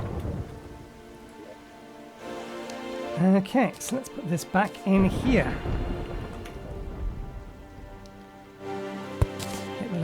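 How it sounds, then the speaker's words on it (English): Steady rain and stormy weather in the video game Terraria Calamity hiss behind a voice as he talks over it, a continuous wash of falling rain running under the speech throughout. "We can probably get rid of the rain."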